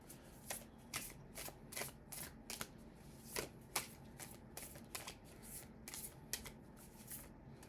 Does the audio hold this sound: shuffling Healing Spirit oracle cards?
yes